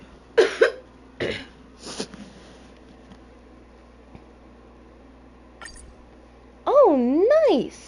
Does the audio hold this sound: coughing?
yes